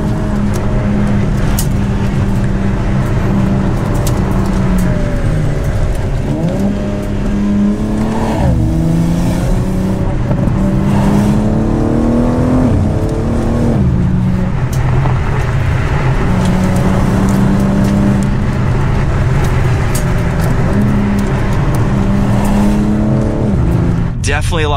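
A 2023 BMW M4 CSL pulls away hard from a launch-control start, its engine loud and close, climbing in pitch through repeated gear changes, with talking over the steady roar.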